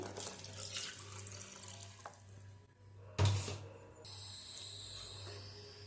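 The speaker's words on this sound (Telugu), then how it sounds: "తర్వాత వాటర్ పోసేసుకోవాలండి." Water runs steadily from a tap into a cooking pot for tomato pepper rasam, a soft continuous splashing with a brief clatter midway, no voices.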